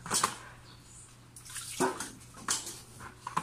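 Water runs and splashes in short bursts while dishes are washed by hand at a sink, the flow rising and falling in separate gushes with no talk.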